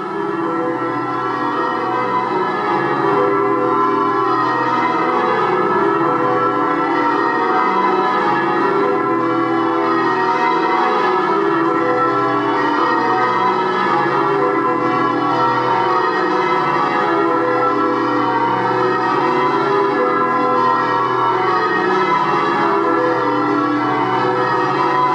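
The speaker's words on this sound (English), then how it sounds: "The bells of St Mary Redcliffe Church they are." The church bells of St Mary Redcliffe in Bristol ring out loud and close in a continuous peal, with overlapping chimes sounding steadily for the whole stretch without any voices.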